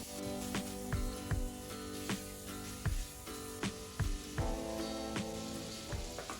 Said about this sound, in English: add the minced garlic and ginger and continue to cook the shrimp in this butter